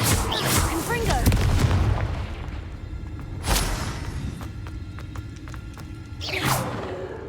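Confringo fire spell blasts in the video game Hogwarts Legacy: three booming whooshing explosions, near and loud, at the start, the middle and the end, with a tail of crackling debris after the middle blast.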